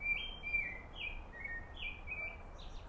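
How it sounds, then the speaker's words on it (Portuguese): Small birds sing in a garden, repeating high, clear chirps and short whistled phrases at a steady pace, set against a soft, constant background hum. "Olha que lindo esse canto dos pássaros."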